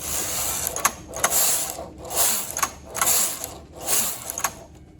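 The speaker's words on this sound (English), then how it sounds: "I'm going to go ahead and knit" A knitting machine carriage is pushed back and forth across the needle bed, giving repeated rasping, ratcheting sweeps with sharp clicks at each end, about five passes close up.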